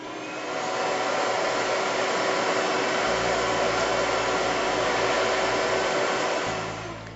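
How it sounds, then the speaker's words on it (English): A large vacuum cleaner sucks up sawdust and debris, a loud, steady motor roar that starts up, holds constant and winds down slightly at the end, heard alone. "Just plug in your large vacuum cleaners and all your sawdust and junk will disappear."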